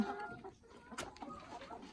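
Egg-laying hens in a farm coop cluck steadily and close by, with overlapping calls and short squawks over soft background rustle as they feed on azolla duckweed.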